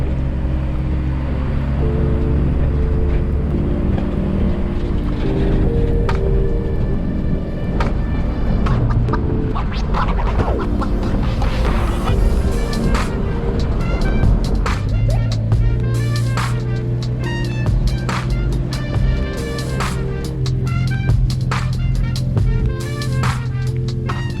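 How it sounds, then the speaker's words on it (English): A vehicle drives along a dirt road in the Dargo tough tracks area of the Victorian High Country, giving a constant close engine and tyre rumble with rattles and bumps throughout. "done a little bit of dirt road driving"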